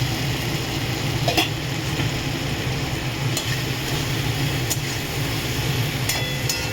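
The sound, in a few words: water poured into frying spice paste, sizzling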